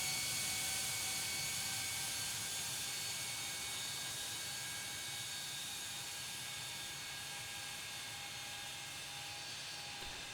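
A jet airliner approaching to land at LaGuardia in a tower simulator game, a steady whining engine roar with high tonal hum that fades slightly over time, heard alone without talk.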